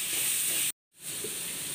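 Chopped tomatoes with spice powders sauté in a pan, giving off a loud, steady hiss that cuts out briefly and then comes back slightly quieter.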